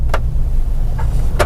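A mini electric family car is switched on with its key, giving a few short, sharp clicks spaced apart over a low, steady hum inside the cabin.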